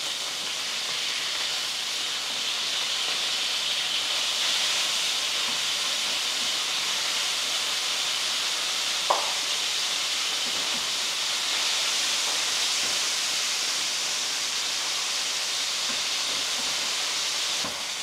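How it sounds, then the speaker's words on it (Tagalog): Chicken pan-fries toward golden brown, giving a continuous even sizzle close by, with one brief sharp pop partway through and faint clinks now and then, no voices. "So, ipapan-fried lang natin siya hanggang maging golden brown."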